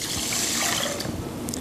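Water splashes and gurgles as it is poured into a pot for cooking rice, a short steady stream running close by with no voices.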